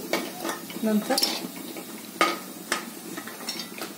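Fried dried Bombay duck fish being lifted out of a pan, heard as close clatters and scrapes of a utensil against the pan over a light frying sizzle, with a few sharper knocks.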